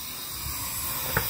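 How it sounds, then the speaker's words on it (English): A live steam engine's boiler pop-off valve, set to release at 100 pounds, hisses in a steady, bright, continuous rush of escaping steam with a brief louder puff near the end. "The pop-off valve is going off at 100 pounds."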